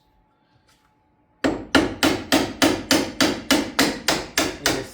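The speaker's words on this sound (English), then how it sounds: "Now I'm going to take my hammer and I'm going to smack this caliper real quick to get it to break loose." A hammer smacks the front brake caliper on a third-generation Camaro IROC to knock it loose, giving about a dozen sharp metallic strikes in a steady rhythm after a short quiet start.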